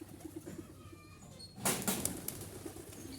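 A flock of Jalali pigeons gives soft coos, then bursts into a loud rush of flapping wings as they take off together, close by and continuing for a couple of seconds.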